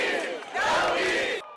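A large crowd of protesters marching in Minsk toward the Independence Palace, loud massed shouting and chanting rising in a sustained roar, dipping briefly before swelling again and cutting off near the end.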